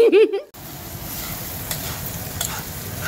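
Crab sautéing in a pan, a steady close frying sizzle with light stirring scrapes after a brief opening voice, faint clicks of utensils now and then.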